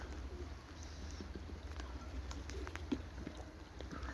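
Soft, low homing pigeon cooing in a quiet outdoor setting as the bird returns to the roof, with faint chirps and small scattered sounds over a steady low hum.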